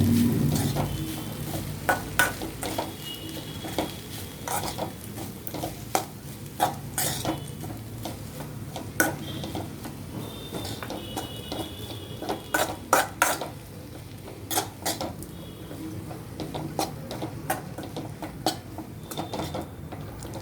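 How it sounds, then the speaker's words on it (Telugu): Rice stirred and mixed in a cooking pot, with a steady scraping churn broken by sharp clinks of a spoon against the metal and a faint sizzle underneath, close and fairly loud, no talking. "దానిలో రైస్ వేయాలి. వేసి బాగా కలబెట్టాలి."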